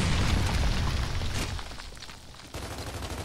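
Enemy gunfire and blasts in Gears of War 3, a loud, heavy barrage up front that fades, then a sharp new burst of shooting near the end, with no voices.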